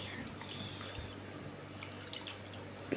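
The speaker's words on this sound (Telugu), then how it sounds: "చికెన్ని 2-3 సార్లు శుభ్రంగా కడుక్కోవాలి." Tap water runs and splashes as raw chicken is rinsed in a sink, a soft close trickle with faint drips and small splashes, quiet and continuous over about three seconds.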